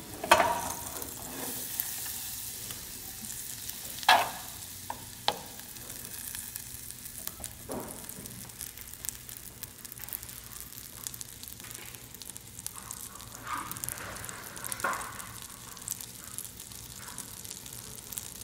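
Butter and onion sizzle and fry in a pan, a quiet steady crackle with occasional scraping stir sounds and a few light clinks, no talking.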